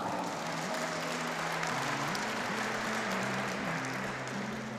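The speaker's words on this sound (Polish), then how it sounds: "I jeszcze większe brawa dla Adriana." Applause for a football player named Adrian during a team introduction for KS Powiślak Końskowola, steady crowd clapping throughout with a tonal musical line running underneath.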